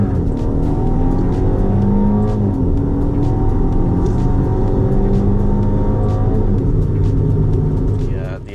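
Mercedes-Benz C180 petrol engine with automatic gearbox running at steady high revs, a loud continuous droning rumble that holds level throughout, with someone talking over it.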